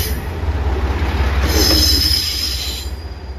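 A JR Shikoku 1500-series diesel railcar on a local service pulls into Tsukuda Station on the Tokushima Line, Tokushima Prefecture, wheels squealing loudly on the rails over a steady low engine rumble, swelling midway and then easing.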